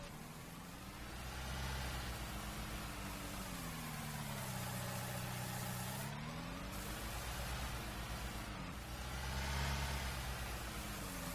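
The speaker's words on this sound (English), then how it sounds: "give you guys a little bit of action here using the skid here to get all the gravel spread on out" Skid steer spreading gravel in Farming Simulator, a steady engine drone that rises and falls in pitch as it revs and eases off, continuous and close.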